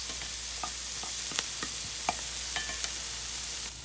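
White onions fry in a pan, caramelizing for Southern hamburger steak, with an even, close hiss and a handful of small pops and spatters over a few seconds, no voices.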